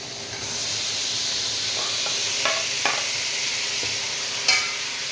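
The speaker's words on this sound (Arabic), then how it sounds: "انتوا شايفينها بتغلي اهي" Food boiling and sizzling in a cooking pot, a steady close hiss with a few soft bubbling pops and a brief clink near the end, no talking.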